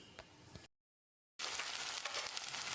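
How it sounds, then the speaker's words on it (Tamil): Tomato paste boiling and sizzling in a kadai gives a continuous crackling fry that cuts out briefly, then resumes louder. "தக்காளியோட பச்சை வாசனை போகிற அளவுக்கு கொதிக்கட்டும்."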